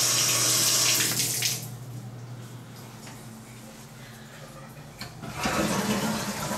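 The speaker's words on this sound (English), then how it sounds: "Make sure the toilet flushes." A toilet flushes with a loud rushing gush that fades into quieter trickling and refilling water, then surges again near the end.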